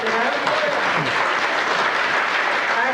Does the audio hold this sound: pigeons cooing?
no